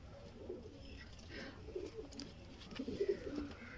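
Sialkoti pigeons cooing softly in a loft, low rolling coos repeating at irregular intervals over faint background noise, growing a little louder toward the end.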